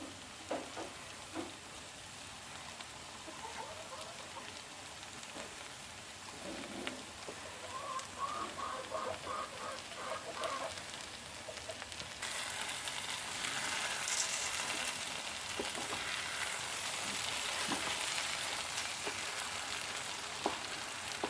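Okra and egg stir-fry in a pan, a faint, steady sizzle with occasional light stirring scrapes that grows slightly louder toward the end.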